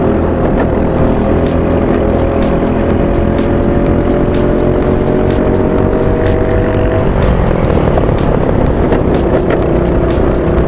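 A race car engine in a GX-UK series round revs loudly and steadily at close range, a continuous high-pitched roar that dominates throughout with no talk.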